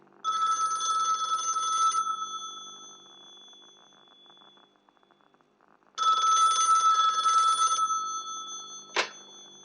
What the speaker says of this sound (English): I barely set my bags down before the phone rang.